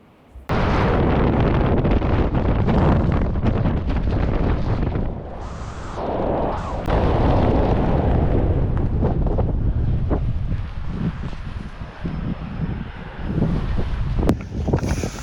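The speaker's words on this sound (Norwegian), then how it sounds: "Det blåser litt, men herregud så gøy." Strong wind buffets the microphone outdoors on a ski jump slope in Sweden, with loud roaring gusts that ease briefly midway and then return.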